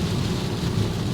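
Steady rain and thunder outside on a day of spring gym training, a dense continuous wash of rainfall with a low rumbling undertone, fairly loud and unbroken, with no talking.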